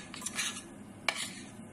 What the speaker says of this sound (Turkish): Sürekli karıştırmanız gerekiyor ki helvamız yanmasın.